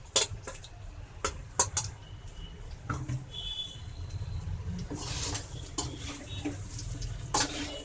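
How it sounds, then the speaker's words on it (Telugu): Fried chicken noodles stirred in a pan with two spoons, with scattered metallic clinks and scrapes over a running background of sizzling and clatter, moderately loud and close. "ఈ నూడిల్స్ని మనం ఇలా సైడ్కి పెట్టి బాండిలు కలుపుకోవాలి, లేదంటే 2 స్పూన్స్ తోటి కలుపుకోవాలండి"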